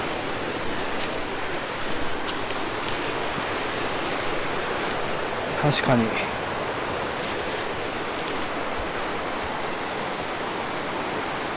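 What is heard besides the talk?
small waterfall flowing, Nishizawa Gorge hiking trail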